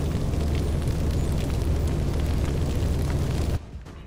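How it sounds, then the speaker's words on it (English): A big explosion in the video game XCOM 2 produces a loud, sustained roaring rumble that holds steady for several seconds, then cuts off abruptly into a quieter tail. "That's going to be a big explosion, isn't it?"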